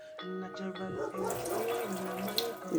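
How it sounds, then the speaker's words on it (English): Guinea weed leaves rinsed under a running tap produce a short burst of splashing water, with a voice sounding over it. "I am going to rinse them off right now."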